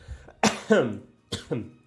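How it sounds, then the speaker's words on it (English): Several sharp coughs in two quick bursts, close and fairly loud, with a short pause between the pairs. "my coughing."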